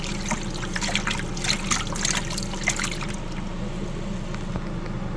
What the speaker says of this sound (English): so I'll go ahead and add my water. Start filling this guy up.